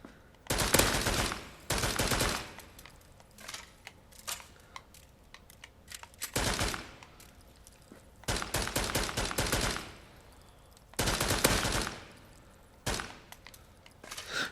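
Gunfire from weapons in the Contractors VR game on Oculus Quest, heard as loud bursts of rapid automatic fire repeated several times with short gaps between.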